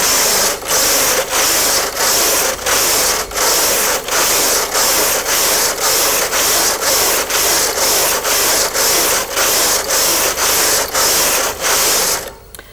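A Brother KH950i knitting machine carriage sweeps back and forth across the needle bed in loud, regular rasping passes, each ending in a brief pause before the next stroke, repeating about every half second.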